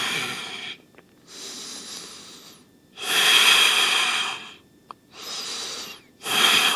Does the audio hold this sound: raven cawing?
no